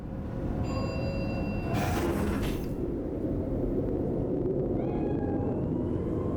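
A cat meows in Cyberpunk 2077, a few short cries over a steady low game ambience, with a brief burst of broadband noise partway through.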